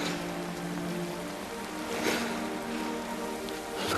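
Heavy rain pouring down in a film scene, a dense continuous hiss of drops spattering across surfaces, steady and close with slight swells, no voices.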